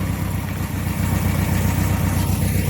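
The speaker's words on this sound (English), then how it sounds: "that jangle is the exhaust" A steady engine idle with a low, throbbing rumble and a loose metallic rattle from the exhaust running through it, continuous and close.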